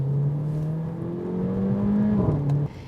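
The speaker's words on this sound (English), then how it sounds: "sports mode also means there's some wonderful burbles, blips and grunts through the exhaust as you go up and down the 7 gears" Engine and exhaust of a 2014 Mercedes GLA 45 AMG in sports mode under steady acceleration, a loud droning tone that rises, then dips sharply with a brief blip at an upshift through its seven-speed paddle-shift gearbox.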